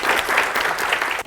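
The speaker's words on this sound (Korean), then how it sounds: "박수로 맞이해주세요." An indoor audience at a corporate recruitment briefing claps loudly to welcome the next speaker, a dense burst of applause lasting about a second before cutting off.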